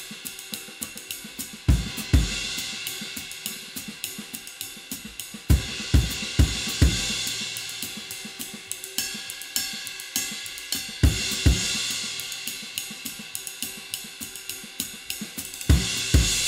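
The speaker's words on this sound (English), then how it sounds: "This is a 20-inch extra dry medium ride, but it has lathing." A 20-inch extra dry medium ride cymbal prototype with very fine lathing, struck in a loose pattern of pings and heavier hits that bloom into a bright, shimmering wash before decaying, heard up close with no talk.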